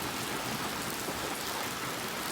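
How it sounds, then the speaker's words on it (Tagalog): Heavy rain pours steadily onto used metal roofing sheets being cleaned outdoors, a dense, loud, unbroken hiss and patter with no voices. "aking sinimantala ang pagbuhos ng ulan habang nililinisan ko ang mga yero"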